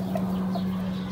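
Kelso and Claret gamefowl roosters, a couple of short clucking calls over a steady low hum in the background.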